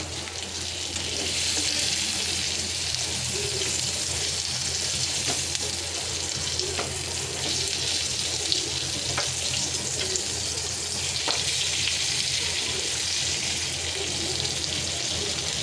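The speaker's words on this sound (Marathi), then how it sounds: "इथे एक साईडने आपले बांगडे शेकून झालेले आहेत. आता याला टर्न आउट करूया." Stuffed bangda mackerel, a Koli-style dish, fries in a pan with a steady, close sizzle and crackle that fills the whole stretch. A few faint clinks come through, and no one speaks.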